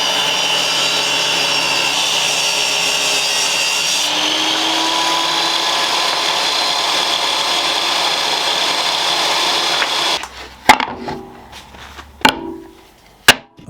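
A power saw cuts a wood blank into smaller strips for a laminated speargun handle, holding a loud, steady whine for about ten seconds before stopping, followed by a few sharp knocks and clatters of wood.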